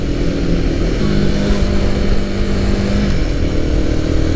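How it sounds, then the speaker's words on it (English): A Royal Enfield Guerrilla 450 motorcycle rides along at steady speed on a Sunday group ride, with a loud, continuous engine drone mixed with rushing wind noise throughout. "riding this Guerrilla 450"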